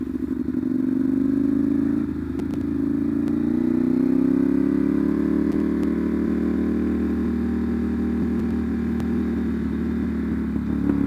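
A Ducati Monster 796 motorcycle fitted with an SC Project CR-T exhaust accelerates hard, its loud engine drone rising steadily in pitch and holding strong and close throughout, with no voices.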